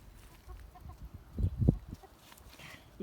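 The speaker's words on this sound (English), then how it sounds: "Anybody who just likes to watch chickens wander around." Backyard chickens cluck softly around a lettuce patch, a few low, close clucks building into a short louder burst, with quiet outdoor ambience and no talking.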